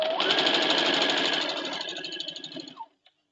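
A sewing machine stitching a quarter-inch seam down a quilt block made from 5-inch squares: a fast, steady mechanical whir up close that slows and stops after about three seconds.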